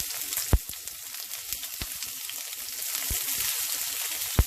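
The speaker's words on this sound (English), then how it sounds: "Let's go ahead and throw it in our pan. Woo, that hot oil." Chicken for BBQ chicken sizzles and crackles steadily in hot oil in a pan, a loud, continuous fry with occasional sharp pops and clicks.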